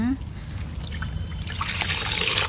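Water trickles and splashes steadily close by while a person talks over it, hand-washing cotton nighties.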